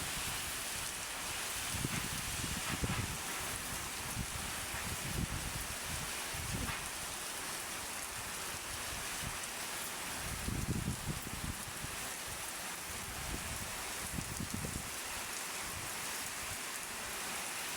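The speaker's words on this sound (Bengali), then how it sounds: "প্রচুর বৃষ্টি হচ্ছে কিন্তু।" Heavy cyclone rain pours down in Barishal amid strong wind. The roar is dense, steady and continuous, with occasional gusty surges and no voices.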